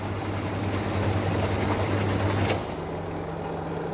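The spin dryer of a semi-automatic washing machine, freshly serviced and repaired, runs with a steady close hum and a low motor drone, then a slight click as its tone shifts.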